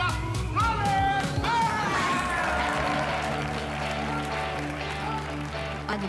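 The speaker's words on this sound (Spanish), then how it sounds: "Quiero un fuerte, pero muy fuerte aplauso para Robert." A television singing-show audience applauds singer Robert: loud crowd clapping with some cheers, mixed under music and a voice.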